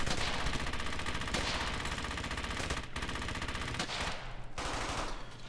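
Sustained gunfire from the video game Brothers in Arms: Hell's Highway, dense rapid machine-gun bursts and rifle shots firing almost continuously and loudly, with brief gaps, and no talk over it.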